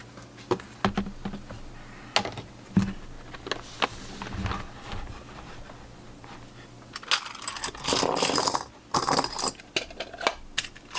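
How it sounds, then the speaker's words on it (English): A small desktop printer feeding and printing on a sheet of paper with double-sided tape along the edges, quiet mechanical clicks and taps, then denser whirring and rattling bursts toward the end, close and fairly faint. "It's printing, and we're gonna see how it turned out."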